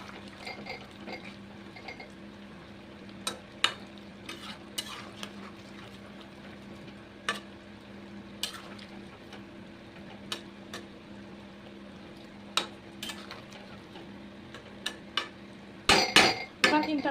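Chicken cooks in a pan as pre-fried potatoes are added and stirred, with sparse metallic clinks and scrapes of a utensil over a quiet background hum, ending in a brief burst of clattering.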